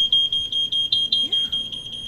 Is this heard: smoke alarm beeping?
yes